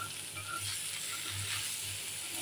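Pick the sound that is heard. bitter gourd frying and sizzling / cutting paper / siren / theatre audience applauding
bitter gourd frying and sizzling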